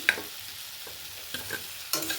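Pointed gourd and potatoes are tipped into a pan and stirred for a dhoka dalna curry, giving a few scrapes and clatters over a soft, steady sizzle.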